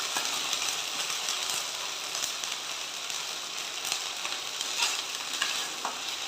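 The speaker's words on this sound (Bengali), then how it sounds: "শুধু ওই শাকটিই কষাতে হয়।" Spinach sautés in ghee in a pan, a steady dense sizzle and crackle with occasional stirring scrapes, close and continuous without talk.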